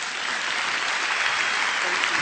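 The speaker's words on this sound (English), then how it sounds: "Let's give him another round of applause." Audience at a talk on reinventing the industrial system breaks into sustained applause, dense steady clapping that fills the space with no pauses and no distinct voices above it.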